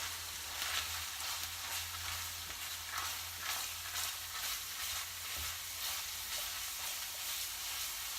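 Mince browning and rendering its fat in a pan, a steady close sizzle and crackle that holds constant throughout with faint irregular pops and stir scrapes, no voices.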